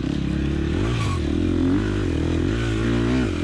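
A four-stroke engine, heard close and loud, revs and holds a throttled drone with rising and falling pitch sweeps and some mechanical clatter throughout, with no voices.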